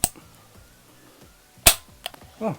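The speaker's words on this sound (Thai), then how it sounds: "ลองเหนียวไกลดูนะครับว่า น้ำหนักไกลเป็นยังไง" A dry trigger pull on an unloaded Derya MK12 semi-automatic 12-gauge shotgun with a 14-inch barrel: a sharp metallic snap of the hammer falling, followed by a few lighter clicks and a brief rattle of the action, close and isolated.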